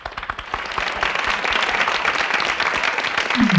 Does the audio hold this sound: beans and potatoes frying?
no